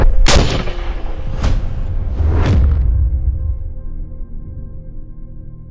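Three 300 Blackout subsonic rifle shots fired outdoors, each a sharp, loud crack followed by a rumbling boom that trails off, spaced about a second apart before the echo fades to quiet.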